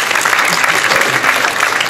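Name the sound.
applause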